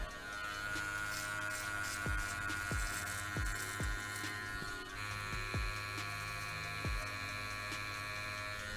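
An electric hair clipper buzzes steadily and close while cutting hair during a mohawk self-haircut, a continuous motor whine with small changes in tone as it passes through the hair, and no talk.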